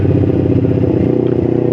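A Kawasaki Ninja 250 Fi twin idles roughly up close, a loud steady low mechanical throb with uneven clattering pulses and no talk over it.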